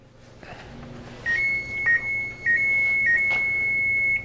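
An oven timer beeps while sourdough brownies bake, a thin electronic tone repeating several times in short bursts, then holding steady, moderately loud over faint room hum.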